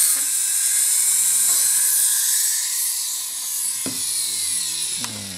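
A drill boring holes in a metal spatula at a jeweller's bench, a steady high whine held throughout, close and loud, with a couple of brief clicks near the end and no talking.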